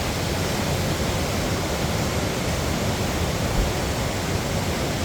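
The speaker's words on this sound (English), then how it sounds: "We are here checking out the rapids right near Minden" Whitewater rapids near Minden on the Canadian Shield rush in a steady, dense, unbroken roar, loud and close, with no voices.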